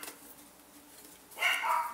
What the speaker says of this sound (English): I'm so sorry about the noise from the dog